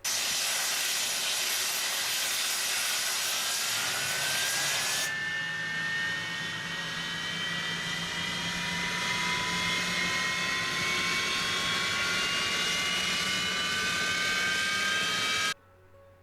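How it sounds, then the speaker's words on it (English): A steady roaring hiss like a jet engine spooling up, loud and continuous with a rising whine, then cutting off abruptly near the end; no talking. "Like a jet. Like it's literally taking off American Airlines style."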